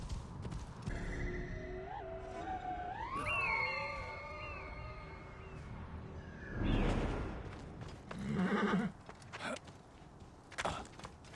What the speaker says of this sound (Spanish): Ese debe ser el caballo con el que escaparon